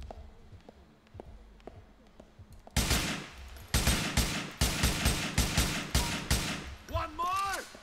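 Gunfire in Grand Theft Auto IV, a few faint shots followed by loud rapid bursts of game gunshots with sharp cracks in quick succession, ending with a whooshing effect.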